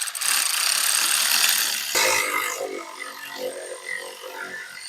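Ratchet snugging up the hub bearing bolts on a 2017 Chevrolet Silverado front hub, a close, dense metallic rattling that runs steadily for about two seconds and then tapers into fainter clicking.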